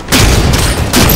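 Gunfire in Halo 5 during a Strongholds match in the beta: a dense, loud barrage of shots fills the whole moment, with a brief lull in the middle before another burst.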